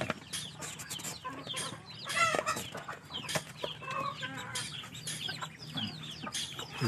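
Native backyard chickens clucking steadily at close range on a farm, with several birds overlapping in busy, continuous calls and no talking.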